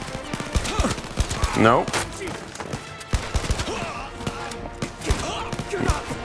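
Gunfire cracks in rapid bursts during the VR shooter Blood and Truth, mixed with thuds and game effects. Someone speaks briefly over the busy, dense action.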